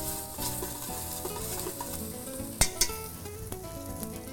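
Garlic sautés gently in olive oil in a pan, a steady close frying sizzle with soft stirring and a couple of sharp utensil taps against the pan, no voices.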